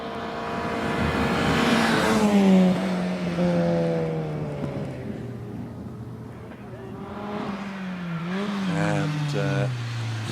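A Citroen Saxo hillclimb car races up the Harewood course in the Yorkshire Centre members class, its engine droning with shifting, rising and falling pitch as it accelerates, heard at a distance under steady commentary.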